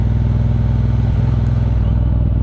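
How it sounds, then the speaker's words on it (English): A 2018 Triumph Bonneville Bobber Black 1200 motorcycle heard from the rider's seat, its engine a loud, steady, throbbing drone with a dense pulsing low rumble throughout, wind noise mixed in. "But I'm actually on the Triumph Bobber Black 2018."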